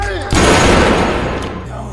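A gunshot in a film bursts in as a loud, dense blast that rings on for about a second over a music-like background before easing back.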